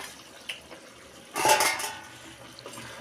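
Chicken curry with curry leaves and coriander is stirred in a clay pot: a quiet background with a small clink, then a short burst of scraping and clattering near the middle before it settles, heard close with no talking.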